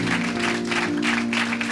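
At an evangelistic church service, the congregation claps hard in a dense, continuous wave, with a low sustained musical tone running underneath.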